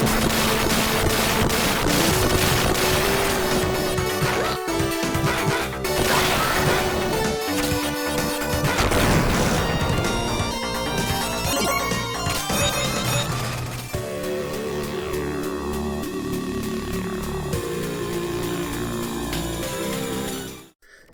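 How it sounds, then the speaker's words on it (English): Sega Mega Drive run-and-gun Gunstar Heroes game audio, with a dense, continuous mix of crashing blasts, zinging shots and a busy synthesized soundtrack throughout, steady and loud before an abrupt cutoff at the end. "Gunstar Hero, super fast run and gun game"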